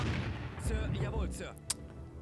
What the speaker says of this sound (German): Granatenbeschuss.